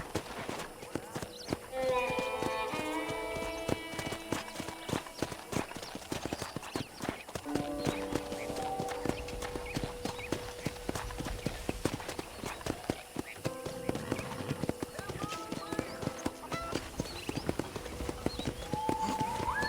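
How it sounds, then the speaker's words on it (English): Horse hooves clip-clop steadily at a riding pace on a ranch in Red Dead Redemption on Nintendo Switch, the even beats running throughout with faint music and a brief whinny beneath. "let's see if you can still ride a horse"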